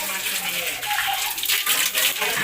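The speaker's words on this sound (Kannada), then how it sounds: "ನೀರು ಬರ್ತೈತೆ" Water falling from above at Antaragange temple makes a steady, close splashing rush throughout, with faint voices mixed in.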